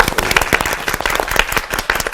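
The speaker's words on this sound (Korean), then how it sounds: "박수 한번 하십시다." A church Bible-class congregation claps together in a dense, steady burst of applause, close and lively throughout the short stretch.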